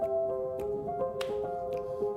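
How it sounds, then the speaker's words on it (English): Finger snaps sit in an electronic classical ambient beat, a handful of bright, dry clicks spaced regularly above a held chord pad, close and clear with no talking. "Don't like the clap, but like the snaps."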